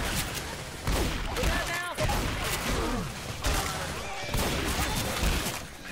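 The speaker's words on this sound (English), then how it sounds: "You are shooting me." Gunfire in the zombie co-op shooter Left 4 Dead 2, set in The Parish park: bursts of shots over constant game noise, with several players talking throughout.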